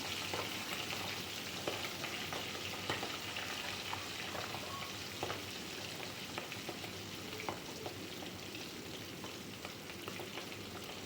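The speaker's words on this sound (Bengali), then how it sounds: "মাছগুলোকে একটু উল্টে পাল্টে আমরা ভেজে নেব" Oil sizzles and crackles steadily as hilsa fish fries lightly in a pan, a constant close frying hiss with small pops throughout and no voices.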